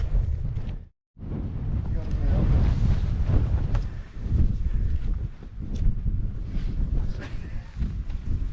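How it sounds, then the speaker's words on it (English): Strong wind on the Derwent Edge moorland at Wheelstones buffets the microphone with a loud, continuous low roar that surges and eases, broken by a brief lull near the start. "It's a little bit breezy up here now."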